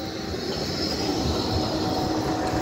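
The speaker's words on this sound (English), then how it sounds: "Quite a battered tram, that one, isn't it?" A battered Blackpool tram rumbling past at steady volume, with continuous low wheel noise and a faint high squeal, no voices.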